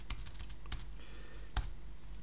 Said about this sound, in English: it's like somebody's typing it out